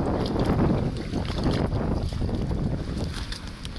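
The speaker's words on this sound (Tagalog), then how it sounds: "So, malaki yung alon" Big ocean waves and wind heard from aboard a boat at sea, a loud, constant rushing roar with heavy wind buffeting the microphone and no talking.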